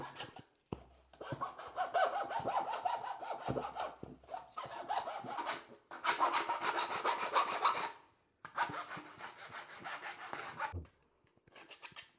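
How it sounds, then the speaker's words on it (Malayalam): A hand file working a wall-mount closet fitting, rough rasping strokes in several long bursts separated by short pauses, close and alone. "ഇതേപോലെ ഒരു ഫയൽ എടുത്ത് ഇതിനെ നല്ലവണ്ണം ഗ്രൈൻഡ് ചെയ്ത് കൊടുക്കണം."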